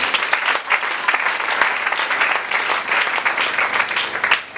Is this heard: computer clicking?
no